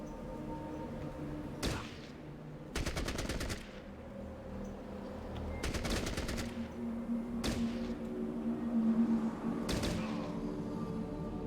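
AK-47 gunfire in the game Fallout Tactics: several short rapid bursts of automatic shots spaced a couple of seconds apart over a low background hum, fairly loud.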